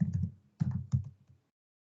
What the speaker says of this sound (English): So I'm just going to type in Jill's name